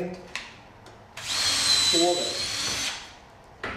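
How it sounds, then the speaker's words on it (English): Cordless drill with a Festool CENTROTEC chuck spins up in a single high-pitched whine lasting about two seconds, loud and close, with brief tool clicks before and after. "Simply put it on the drill."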